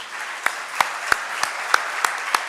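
A conference audience gives a farewell round of applause to a lecturer, heard as a soft steady patter of clapping with several sharper, louder claps standing out at irregular intervals.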